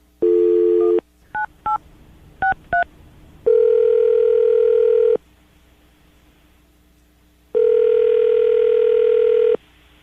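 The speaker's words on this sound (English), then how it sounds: "I'm going to dial the phone right now so we can get her on the phone" A telephone line opens with a steady dial tone, then several quick keypad beeps are dialed, followed by two long, loud electronic tones spaced apart with quiet gaps between them.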